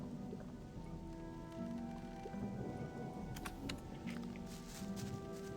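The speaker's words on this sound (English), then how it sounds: "Oh, it's raining." Rain falls in the Gothic video game, a soft, steady patter with scattered drop impacts and a low rumbling bed, faint and continuous with no talking.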